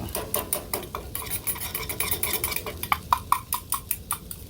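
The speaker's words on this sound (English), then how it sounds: "And we're just gonna use a whisk." A whisk scrapes and clatters through a flour roux in a pot for mac and cheese at a windy island campsite, a quick steady rhythm of metallic strokes that turns into sharper, evenly spaced taps toward the end.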